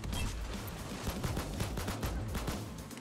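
An automated turret firing in Payday 2, a steady rapid stream of gunfire with a dense mechanical rattle and no breaks, heard continuously throughout.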